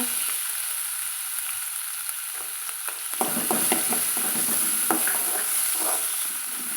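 Chopped carrot sautéing in a pan for chutney, sizzling softly at first and then growing louder with clattering stirring strokes partway through, close and without speech.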